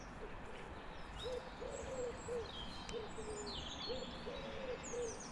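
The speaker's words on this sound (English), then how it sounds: "Again, you can hear the wood pigeons" Wood pigeons coo in a park, a run of soft, low, repeated calls at moderate distance over steady outdoor ambience, with faint higher bird chirps above.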